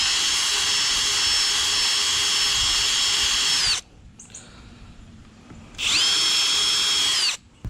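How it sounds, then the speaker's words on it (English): A power drill whirs loudly and steadily while boring holes for tomato-support ropes in a garden, runs for several seconds, stops briefly, then spins up again for a second close, high-pitched burst. "We went ahead and drilled 3 holes and put 3 different ropes on there."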